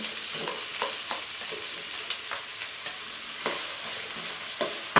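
Onions fry in hot oil for a boiled egg curry, a steady close sizzle punctuated by repeated sharp clicks and scrapes of stirring, with no one speaking.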